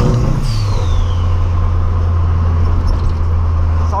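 A VW Gol TSI turbo engine sits at full throttle against the rev limiter, a steady loud buzzing drone that stays constant throughout, with a brief faint whistle near the start and no talk.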